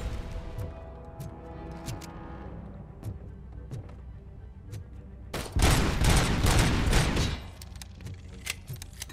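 Gunfire and explosions aimed at RoboCop in RoboCop: Rogue City, with scattered sharp shots early on, then a loud dense burst of blasts and firing for about two seconds before thinning back to sporadic shots.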